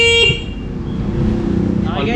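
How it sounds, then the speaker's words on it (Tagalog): A car horn blares briefly at the start, loud and close, then cuts to a steady low engine hum with faint background noise. "O, diba? Busina."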